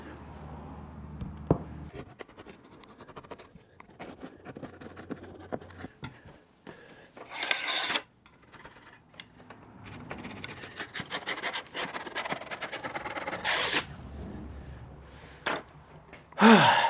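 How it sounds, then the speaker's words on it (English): A scraper rasps and rubs over plywood, lifting off dried glue in uneven bursts of close scraping with short pauses between strokes. "Okay, I'm gonna scrape that glue off."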